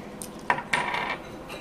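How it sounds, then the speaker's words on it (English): Rose gold pots and pans are handled, giving a few bright metallic clinks and clatters in quick succession, close by and moderately loud, with no talking. "I got some rose gold pots and pans"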